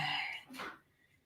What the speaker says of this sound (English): I need a sip to let me clear my throat.